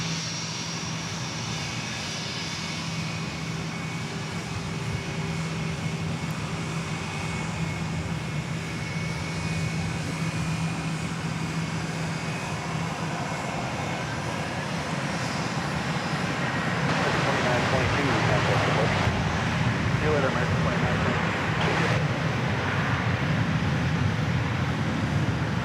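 An American Airlines plane takes off from runway 36 at DFW Airport, its engine roar building steadily and swelling louder in the latter part. A radio voice talks over the engine noise.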